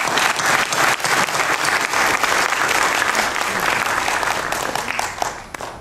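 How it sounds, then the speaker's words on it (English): Enthusiastic applause from a crowd at a volunteer mothers' gathering, a thick continuous roar of clapping hands lasting several seconds before tapering off at the end, with no speech over it. "you deserve a big round of applause"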